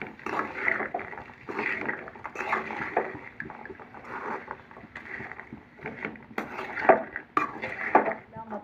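Chana, chopped onions and chillies are stirred together in a pan, with a spoon repeatedly scraping and clattering against the metal in an uneven rhythm, close by and fairly loud throughout.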